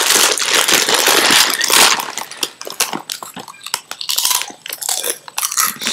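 Loud, close crunching and chewing of Blazing Buffalo and Ranch Doritos tortilla chips, with repeated crisp bites and brief pauses between them.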